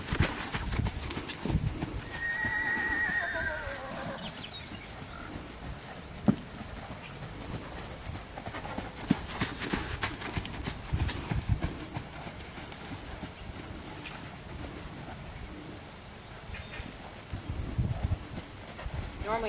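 A young colt cantering in circles in a round pen, its hooves thudding in a steady three-beat rhythm close by, with a brief whinny early on and people talking faintly underneath.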